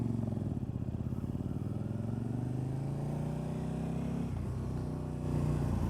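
A KTM RC8 sport motorcycle being ridden on the road gives a steady, loud engine drone with shifting pitch as the throttle changes, heard throughout with wind rush.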